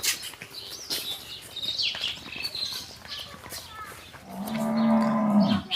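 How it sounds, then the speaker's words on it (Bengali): A cow gives a loud, drawn-out moo near the end, after a stretch of farmyard bustle with birds chirping and faint voices, among dairy and pregnant cows for sale. "তিন নম্বরে সুন্দর একটা গাভী দেখছি"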